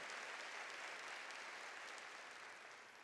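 A church congregation at a Sunday service applauds in a steady, even wash of clapping, fairly faint and distant, that tapers slightly at the close.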